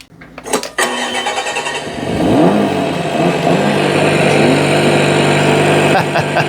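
Simulated R5 Turbo Rally 85 engine from an RC car sound unit, first a few quiet clicks and then a loud startup that settles into a steady, buzzing idle close by.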